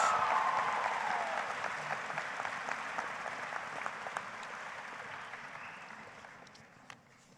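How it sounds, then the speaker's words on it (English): A high school graduation crowd applauds the student speakers, a broad wash of clapping with a few cheers that starts strong and gradually fades over several seconds. "one more round of applause for these incredibly talented, gifted speakers"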